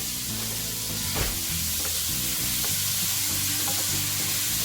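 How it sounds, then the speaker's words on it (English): Lamb for a stir fry sears in a hot pan with salt and pepper, giving a loud, continuous sizzle and hiss close by with a few faint scrapes, under low background music. "We are going to let this meat get a nice sear on it with some salt and pepper"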